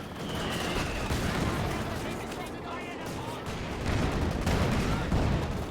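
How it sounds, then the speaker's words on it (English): Panzer tank guns and mortars fire in Company of Heroes 2, making a dense, continuous barrage of booms and gunfire that grows heavier toward the end, with a voice faintly heard beneath it. "Just getting pounded by the Panzers and the mortar."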